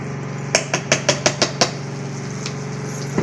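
A spoon taps rhythmically against a pan holding besan and suji halwa roasting in ghee over very low heat: six quick metallic knocks in a row over a steady low hum, then a couple of softer clinks.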